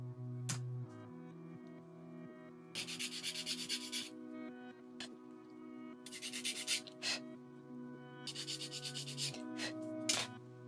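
A hand file rasps on the small parts of a Sakura Densha bookend craft kit in three bursts of quick, close strokes. Soft background music plays under the strokes, and no one talks.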